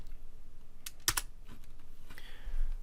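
A short burst of computer keyboard typing while entering commands to install MongoDB, with a few crisp, close keystrokes over a steady background hiss.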